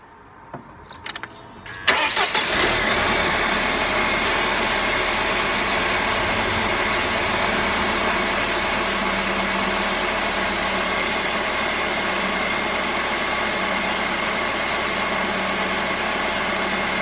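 A Mercedes SLK 230 R170 with the M111 engine, after a camshaft magnet oil leak repair, cranks briefly and catches, then settles into a loud, steady idle that holds close by for the rest of the clip.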